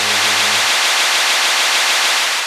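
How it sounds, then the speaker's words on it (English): Loud, steady white noise fills the whole stretch as an unbroken broadband hiss, with a faint low hum fading out in the first half second. "And this white noise."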